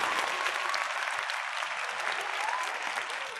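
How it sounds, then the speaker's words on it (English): A crowd claps steadily and warmly for a few seconds, a continuous wash of applause at even loudness with a few faint voices mixed in. "Can we get a clap and an oh yeah for Lay Geno"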